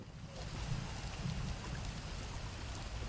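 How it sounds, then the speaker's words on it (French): Rain falls steadily in The Elder Scrolls Online, a soft continuous hiss with a low rumbling wash beneath it, quiet and unbroken throughout. "Maudite pluie, il tombe des cordes depuis notre arrivée et aucun signe d'amélioration en vue."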